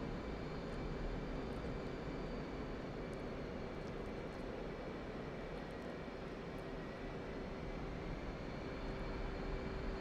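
Steady, loud jet engine drone of an F/A-18C Hornet in DCS World, flying a night air-to-air refueling over the Caucasus map, a continuous broadband roar with a faint tonal whine throughout and no talk.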